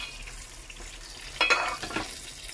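Milkfish (bangus) frying in a pan in a small condo kitchen, a low hiss that swells into a brief burst of spitting sizzle midway, close and moderate, with no speech.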